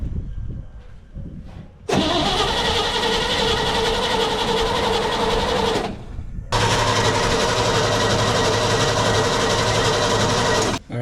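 A 1957 Chevy engine that has been sitting unused, with a suspect fuel pump, cranks and fires. It runs loudly and close for about four seconds, stops briefly, then catches again and runs steadily until it cuts off.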